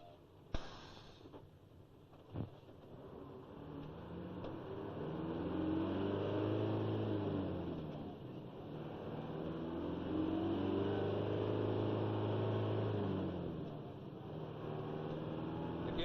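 A 1970s Mercedes 1617 truck drives along, its diesel engine droning up through the gears with audible rises and falls in pitch as it shifts, heard from the cab at moderate level with a couple of sharp clicks early.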